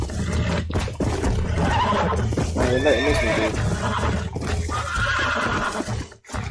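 Horses neighing and whinnying in the Red Dead Redemption video game amid a chaotic roundup, with hoof clip-clop and someone talking over the commotion.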